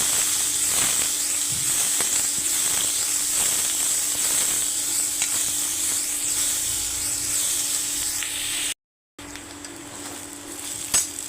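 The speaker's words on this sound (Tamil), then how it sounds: "இதை போட்டு நல்லா வதக்கி விட்டுக்கோங்க கொஞ்சம் நேரம்" Sliced onions sizzle in hot oil in a pan for tomato rice, giving a steady close hiss with occasional faint stirring clicks and a brief dropout near the end.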